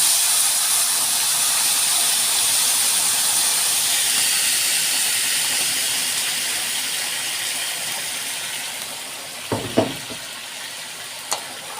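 A steady loud sizzle and hiss of frying fills the clip, with a few sharper bursts near the end as hot water hits the hot pan.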